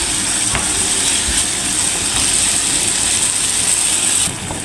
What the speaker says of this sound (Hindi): चिकन को पहले डाल दिया है पैन में। अब इसको हम जल्दी भून लेंगे।